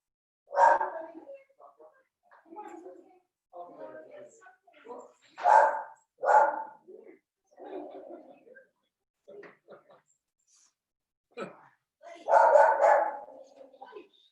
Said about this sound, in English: our dog Buddy is guarding us